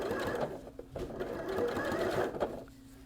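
A sewing machine stitches along piping on an outdoor pillow, a close, quick mechanical whirring run in short bursts with brief pauses, quiet and alone.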